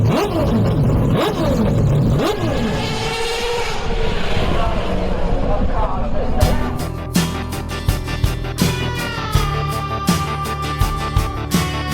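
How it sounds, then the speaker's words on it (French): Car with a rotary engine revving at an auto show, a loud continuous engine drone in the first half giving way to sharp repeated revs and throttle blips with other show noise and some voices around. "cette bagnole, c'est un moteur rotatif, mais ça fait un bruit ça"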